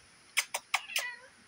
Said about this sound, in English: Oh, random shop cat.